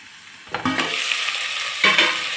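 Salted mixed vegetables for veg pulao fry in oil, a bright sizzle that jumps in with a stirring clatter, runs steadily, then swells again with another stir near the end.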